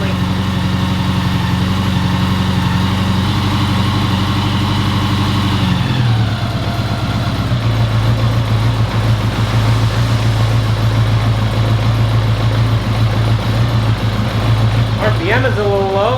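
Honda Goldwing motorcycle engine idling steadily and loud up close at slightly low RPM, with a continuous low hum whose pitch drops and settles partway through, and someone speaking over it.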